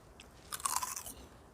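Someone bites into and chews homegrown berries up close, making a short crunchy burst of about half a second, with quiet before and after and no talk.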